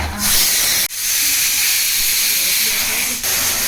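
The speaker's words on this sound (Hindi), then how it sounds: "ये आलू की कुकर की सीटी" A loud, continuous steam hiss from a pressure cooker whistle while potatoes cook, briefly cut off twice before resuming, close by.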